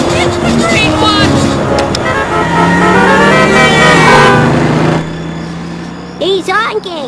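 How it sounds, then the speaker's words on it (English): A car horn honks in an animated film scene, loud toots sounding over voices and a rumbling vehicle, with excited speech continuing around them. "He's honking!"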